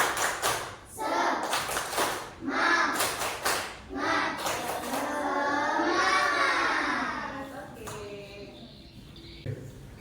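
A school class performs the tepuk semangat clapping cheer, sharp rhythmic bursts of group claps in patterned sets, with children's and a teacher's voices chanting between and over the claps.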